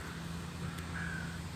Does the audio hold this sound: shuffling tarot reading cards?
no